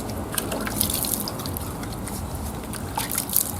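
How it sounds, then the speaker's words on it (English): Hands are washed under running water at a sand pit and water play area in an early childhood centre, a constant close splashing trickle with scattered drips. "teach them to wash their hands"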